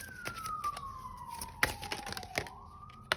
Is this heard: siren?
yes